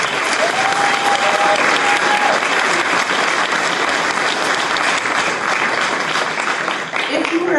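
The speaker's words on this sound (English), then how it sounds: "Can we give her a round of applause?" Sustained loud applause from an audience at a university student awards ceremony for a department head, dense steady clapping filling the room, with a brief tone and some voices mixed in underneath.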